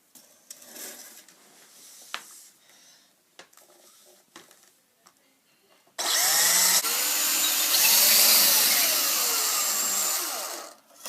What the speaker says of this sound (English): Drill a hole right here, same size as the cable.